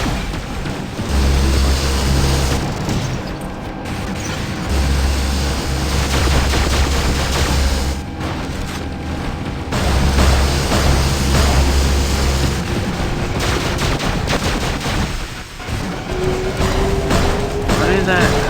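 Shotgun fire in the mobile mech game War Robots, dense repeated blasts and booming impacts running through a loud, continuous battle din, with players talking over it.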